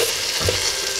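A wooden spoon nudges wild pork stew around the bottom of a pot under a steady, close sizzle and bubbling simmer, with no talking.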